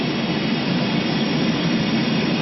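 Airplane jet engines roar loudly and steadily from inside the cabin during a trip to Hoover Dam, a dense unbroken rumble with no speech.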